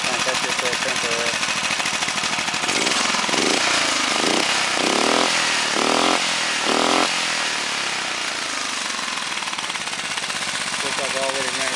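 A Honda race-engine bike with a modified, punctured muffler runs loud and close, its rough, rattling exhaust note rising in a few short throttle blips before settling back to a steady idle.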